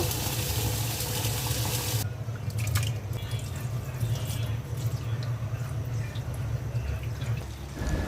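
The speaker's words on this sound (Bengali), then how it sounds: "চাল আর ডালটা ধুয়ে নেব।" Tap water runs steadily into a sink while rice and lentils are washed, a continuous splashing stream with a brief louder rush at the start and small drips and clinks through it.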